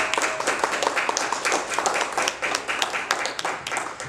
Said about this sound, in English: let's have a warm round of applause for Mr. David Octavio